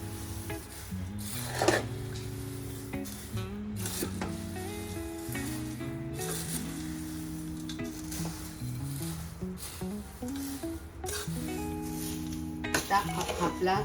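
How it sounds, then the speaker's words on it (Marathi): Poha chivda being tossed with cumin powder in a pan gives a steady dry sizzle and rasping scrape of the spoon, with occasional knocks against the metal and background music. "आणि आता हे परत मिक्स करूया."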